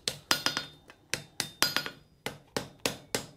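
Hammer blows on forge-welded steel being straightened at the forge: about ten sharp, ringing metallic strikes, close and loud, in uneven pairs and singles with short pauses between them.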